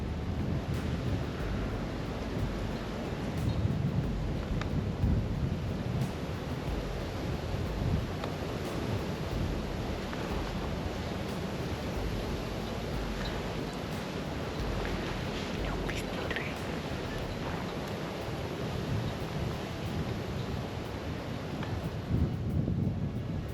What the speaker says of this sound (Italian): anche se il rumore del vento è molto